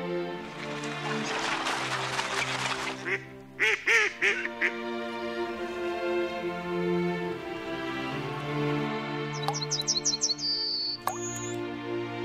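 Birds call repeatedly, with harsh quacking honks and chirps overlapping at close range, plus a few high tweets near the end.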